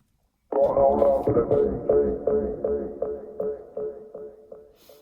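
A processed vocal sample from an electronic track, a sustained sung tone with layered effects and echoing repeats that trail off and fade over several seconds, alone without other instruments.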